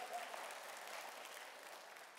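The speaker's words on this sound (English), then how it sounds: "clap your hands" An audience at a motivational talk claps hands in a steady, even wash of applause that holds at moderate, somewhat distant volume throughout, with no one speaking over it.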